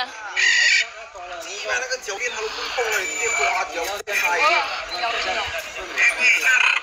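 Continuous bright chirping and warbling from a parrot close by, busy and varied, with a short break partway through.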